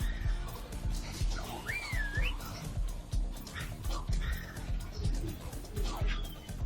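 Someone whistles a short, wavering tune in bursts over steady background noise and low murmuring.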